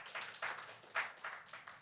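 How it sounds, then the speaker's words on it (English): Applause from the audience at a women-in-business roundtable, a short burst of scattered clapping with irregular claps, faint and fairly thin, lasting under two seconds with no talk over it. "round of applause."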